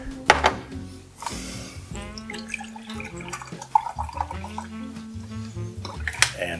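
Milk pours steadily into a pot, gurgling and splashing with a rising pitch, accompanied by a few light clinks of metal.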